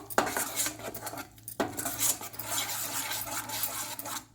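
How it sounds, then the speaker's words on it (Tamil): Masala sautés in ghee in a pan for mutton ghee roast, a metal spoon scraping and clanking against the pan in close, repeated strokes over a soft steady fry, no talking. "நெய்லேயே இந்த மசாலாவை நல்லா வதக்கி விடுங்க."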